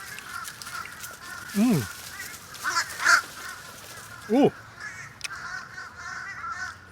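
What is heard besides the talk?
crows cawing near food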